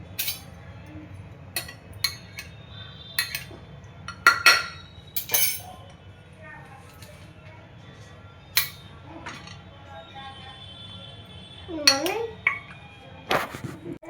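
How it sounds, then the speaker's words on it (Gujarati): Boiled potatoes tipped from one cooking pot into a separate pot, heard as scattered metallic clinks and clatters of utensils against cookware with quiet gaps between, close to the microphone. "હવે આપણે બટેટાને અલગ એક વાસણમાં કાઢી લઈશું।"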